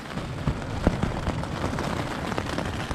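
Heavy rain and strong wind battering a tent in winter woods during a storm, a dense steady wash of noise broken by scattered irregular thumps and flaps from the collapsing fabric, no voices.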